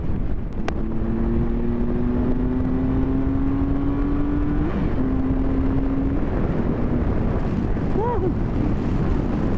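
A 2014 Triumph Tiger Explorer motorcycle pulls hard, its engine note climbing steadily through the gears over constant wind rush, heard from the rider's position.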